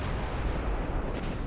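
Naval artillery fires in the warship game Ultimate Admiral Dreadnoughts, a heavy booming rumble with a dense low roar that carries through the short burst, loud and close, with no voices over it.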